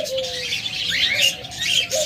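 Pet lovebirds and budgerigars at a bird seller's, a flurry of high chirps and tweets overlapping continuously, nearby and moderately loud, with no talk.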